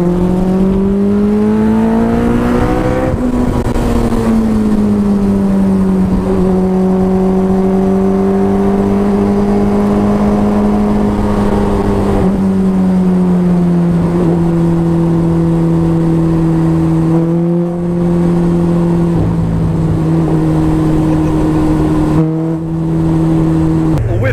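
Hayabusa motorcycle engine fitted in a Sport 200 race car, heard from inside the cockpit and revved high toward 11,000 RPM. It gives a loud, sustained whine held near constant pitch, with brief dips at each gear change.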